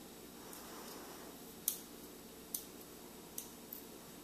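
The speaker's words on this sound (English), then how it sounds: "I have my really sharp scissors, and I just pretty much cut it off." Sharp scissors snip through marshmallow bug sticks in a handful of crisp, quiet clicks spaced about a second apart, each cut faint over a soft background hiss with no voices.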